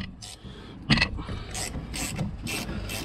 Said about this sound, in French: Maintenant, pied de 13. Et je viens dévisser ici le petit boulon.